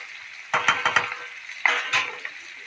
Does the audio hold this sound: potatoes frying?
yes